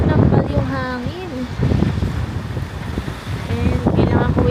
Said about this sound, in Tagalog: Mahangin kasi nananampal yung hangin.